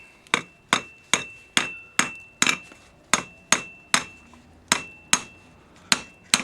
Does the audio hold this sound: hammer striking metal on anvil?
yes